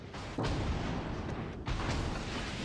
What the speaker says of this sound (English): here you'll see a nice torpedo strike